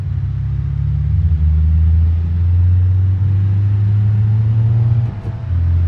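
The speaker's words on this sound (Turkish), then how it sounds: "Tatlı tatlı motorumuzu ısıtalım. Egzoz çatırtılarıyla beraber." A Lada 2101 Turbo in BeamNG Drive warms up its engine, a loud, steady low rumble that dips and rises slightly, with a brief throttle change near the end; distinct exhaust crackles are not evident.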